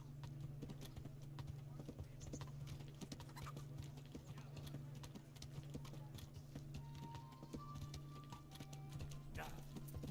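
A horse's hooves clop at a steady, regular trot in the medieval game Kingdom Come, a continuous rhythmic patter over a low hum, fairly quiet and sustained.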